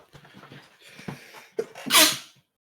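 A single loud, close sneeze bursts out after a few seconds of soft breathing and faint murmuring, then silence.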